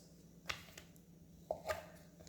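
A knife cuts through a stack of corn tortillas into squares on a board, giving three crisp, separate chops, the last two close together, over a quiet background.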